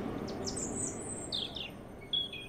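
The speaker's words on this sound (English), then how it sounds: "The bird was chirping a song." A bird in the game Underground Blossom chirps a short, high song of a few rising and falling notes over a faint, steady background hum, fairly quiet and alone.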